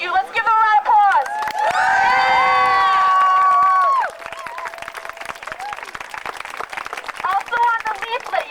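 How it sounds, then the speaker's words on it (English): A crowd at a 2004 rally for access to emergency contraception cheers with high shouts and whoops, then breaks into sustained clapping that carries on for several seconds at steady loudness. "Let's give them a round of applause."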